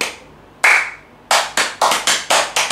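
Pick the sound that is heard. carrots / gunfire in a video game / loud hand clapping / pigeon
loud hand clapping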